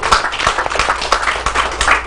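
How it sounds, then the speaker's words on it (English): An audience clapping on a talk show stage, a steady patter of many hands with regular sharp accents, fairly close and loud, with no talking over it. "let's give another hand clap for that."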